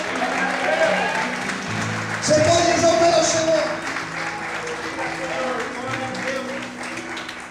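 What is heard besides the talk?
congregation applauding in church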